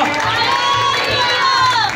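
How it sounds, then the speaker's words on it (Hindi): A congregation at an ordination service in Punjab erupts together, loud and sustained, with shouts and cheering over the clapping, steady for the whole stretch and no speech on top. "एक बार जोर से ताली बजाकर परमेश्वर की महिमा करेंगे।"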